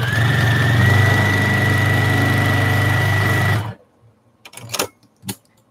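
A sewing machine runs loud and close at a steady hum with a constant whine for several seconds, then cuts off abruptly, followed by a few faint clicks and handling sounds.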